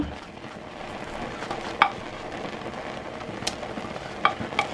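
Tomato goes into a pot of frying onion and garlic for a quick okra sauce. A steady sizzle runs throughout, with a few sharp clicks of a utensil against the pot.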